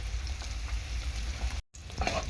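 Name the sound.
Bombay duck (lote) fish frying in a pan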